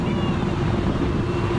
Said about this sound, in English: Ferry coming out there.